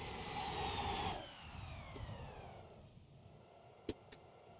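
In the video game My Garage, a car engine winds down and stalls after a downshift to first at top speed, a loud revving drone that falls away, followed by a couple of brief clunks in near silence.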